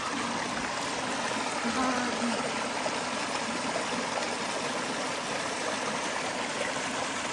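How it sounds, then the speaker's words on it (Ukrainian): Small waterfalls trickle over ice, a steady, close rush of running water that fills the whole stretch evenly, with no other sounds standing out. "А тут такі водоспадики, такий льодик."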